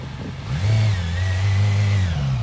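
A used 2009 Yamaha YZF-R6 supersport motorcycle engine rises from idle into a steady, close rev, holding a strong droning tone for about two seconds before easing off, with no talking.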